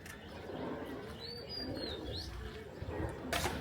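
Pigeons cooing on a rooftop during rain, with a few soft coos and a brief chirp over a steady wash of rainfall, ending in a short burst of noise.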